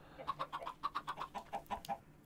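In the Minecraft video game, a chicken gives a rapid series of about a dozen evenly spaced clucks, faint and alone, in quick rhythmic succession.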